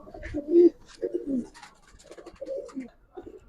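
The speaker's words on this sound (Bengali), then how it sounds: "এখানে কিছু কবুতর আছে মাসাল্লাহ অনেক সুন্দর" Giribaz and coloured pigeons coo in a loft, several soft throaty calls coming in short bursts close by, with faint background noise between them.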